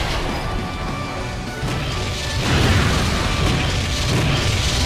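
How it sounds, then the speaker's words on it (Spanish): A loud, sustained explosion roars in a Sonic the Hedgehog video game cutscene, a dense rumbling blast with crashing debris that swells midway and keeps going to the end. "La explosión se estaba expandiendo a tal punto que el camino para Sonic estaba terminándose"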